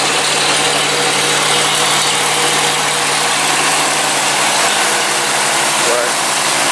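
A 1936 car with a new exhaust idles steadily and closely, just after its first start of the day, producing a constant, even engine drone with no breaks throughout.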